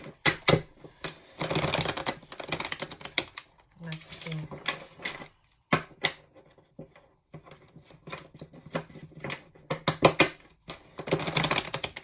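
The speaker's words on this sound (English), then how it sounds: "Sorry, let me shuffle." Rapid papery riffling and soft slapping of tarot cards being shuffled in bursts, close up, with a voice speaking briefly between.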